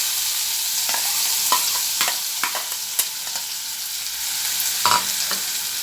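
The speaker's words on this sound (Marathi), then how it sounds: "तर हे छान परतून घ्यायचे" Chopped onions sautéing in a pan for a bitter gourd stir-fry, with a steady sizzle broken by scattered clinks and scrapes of a spatula stirring, close and moderately loud, no talk.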